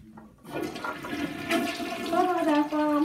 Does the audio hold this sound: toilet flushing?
yes